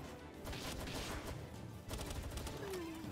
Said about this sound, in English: Are you shooting something at me?